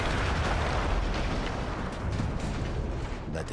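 A huge explosion in the World War I shooter Battlefield 1 roars as a dense, sustained rumbling blast that fills the moment loudly, with debris crackling through it.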